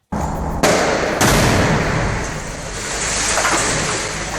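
A suicide vest detonates in a documentary, a sudden loud blast that gives way to a sustained roaring rumble with a second sharp burst, then a long, heavy, wash-like decay.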